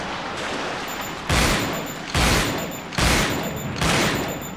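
Shotgun blasts in Resident Evil Dead Aim on PS2: four loud, booming shots fired at a steady pace about a second apart, each with a sharp, noisy crack that decays into the next.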